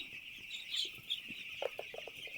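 Six-day-old chicks in a poultry shed give a dense, continuous chorus of high peeping, fairly faint, with a few soft clucks and low knocks scattered underneath.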